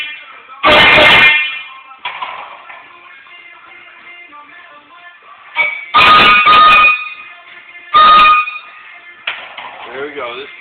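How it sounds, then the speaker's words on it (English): Air horns being tried out as DJ samples let off three loud, blaring blasts, the first and second long, the last short, with someone talking quietly in the gaps between them. "So I found some air horns to try out."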